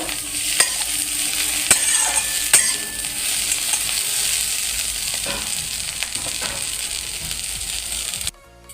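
Pumpkin leaf mash being stirred in a hot pan, a continuous close sizzle with scraping stirs and a few sharp clinks of the spoon against the pan.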